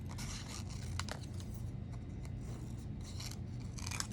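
Scissors snip and rasp through paper at a kindergarten collage table, quiet, close strokes repeating in an uneven rhythm over low room hum.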